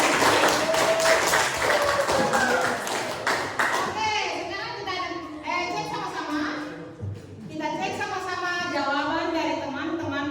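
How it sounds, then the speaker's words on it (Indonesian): Classroom applause from pupils in a chemistry lesson on conservation of mass, a burst of clapping for classmates near and loud at the start, then children's voices chattering over it. "kita beri apresiasi dulu aplaus kepada teman-teman"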